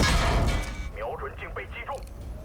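A tank cannon shot in World of Tanks, from the Chinese Tier 10 121 medium tank against a Type 5 Heavy: a loud blast at the start, then sharp metallic impact and ricochet crackles, with a voice talking over it.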